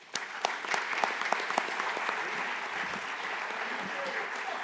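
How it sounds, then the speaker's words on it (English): An audience at a fall state conference applauds Sheriff Leonard, the new 2025 state chair, with steady dense clapping filling the room, sharper claps standing out near the start. "Can we give him a round of applause?"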